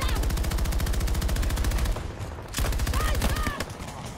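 Heavy, rapid automatic fire from a PKP machine gun in Battlefield 2042 rattles loudly up close in long bursts, with brief gaps, scattered distant shots and game effects in the pauses.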